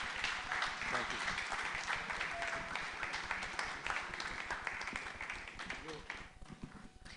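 A crowd at a Nigerian real estate developers' association event gives steady, dense applause that holds for several seconds and eases slightly toward the end, with voices murmuring beneath it.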